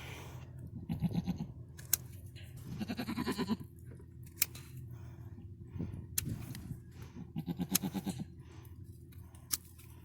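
Large goat over 200 pounds bleating repeatedly in bursts while its hooves are trimmed with cutters, close and loud, with a few sharp clicks of the tool between cries and no talking.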